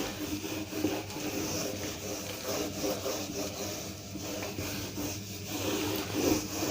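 Writing being rubbed off a classroom board during a maths lesson, a continuous rhythmic scrubbing and rasping of a duster across the surface, close and moderately loud without talk.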